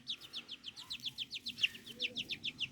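Japanese quail about twenty days old give a rapid run of short, high chirps, about a dozen evenly spaced peeps close by with no talking.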